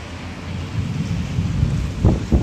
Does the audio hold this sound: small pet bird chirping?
no